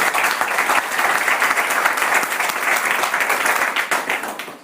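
Audience breaks into loud, sustained applause, dense clapping from a full crowd that carries on without pause throughout.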